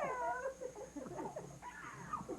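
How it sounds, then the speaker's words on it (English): Small dog making soft whimpering yips and whines in short irregular bursts, faint and close, over a quiet steady background hiss from an old home recording. "Oh, look at the nice little doggy."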